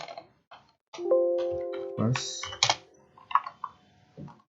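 Quick bursts of keyboard typing as an email address and password are entered into a Java login form, close and clear, in uneven clusters of keystrokes.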